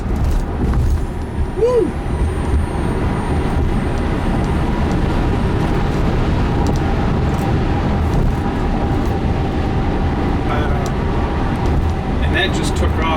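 A Tesla Model Y Long Range accelerating hard, heard from inside as a steady loud rush of road and wind noise with a low hum, while a person cheers briefly over it.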